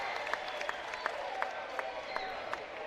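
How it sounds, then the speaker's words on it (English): Spectators at a high school basketball game between Mineola and Chapel Hill cheer and applaud in a gym, a steady crowd roar with scattered sharp claps throughout. "You're going to hear this crowd start to get into this game now."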